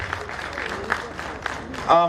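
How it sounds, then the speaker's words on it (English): Applause from a conference crowd at a pre-marital gathering, a steady patter of many hands with a voice cutting in briefly, then a louder swell near the end. "Please, can we give another round of applause?"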